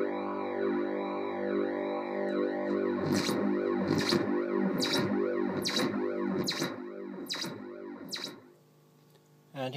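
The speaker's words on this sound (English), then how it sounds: "here's the built-in springline reverb working" Sustained synth tone from a Delta Music Research 1100 modular system with rhythmic bright bursts splashing into its built-in spring reverb's metallic, boingy wash, repeating roughly every half second before dropping away near the end.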